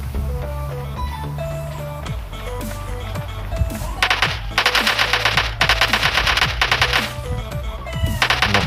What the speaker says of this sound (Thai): ยิงรอบตัวเลยนะครับ